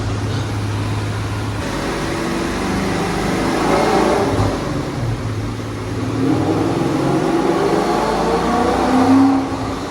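A supercharged Ford Mustang runs on a dyno with its tires spinning, producing a loud sustained engine drone that climbs steadily in pitch and builds toward the end.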